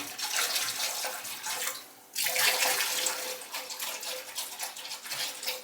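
Pink antifreeze pours steadily into a toilet tank, a faint, continuous trickle and splash of liquid into water with a brief dip midway before resuming.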